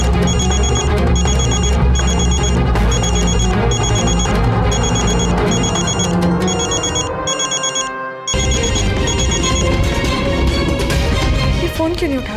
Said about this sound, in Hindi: ये फोन क्यों नहीं उठा रहे हैं?